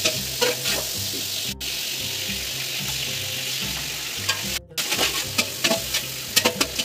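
Onion fries with ginger garlic powder for an aloo soyabean tahari, a loud steady sizzle with stirring clatter and brief pauses as the pan is worked.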